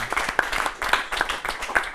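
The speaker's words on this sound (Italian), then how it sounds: "E allora facciamo un applauso a, a Mattia Petrucci." Audience applause for Mattia Petrucci at a televised event: a short burst of dense, brisk clapping from a small crowd, fairly close and steady for about two seconds.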